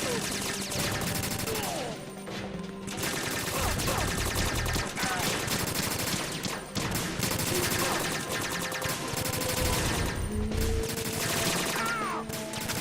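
Gunfire in the video game Metal Gear Solid 2: Sons of Liberty, bursts of rapid automatic shots and single cracks over game music and effects, with someone talking at moments.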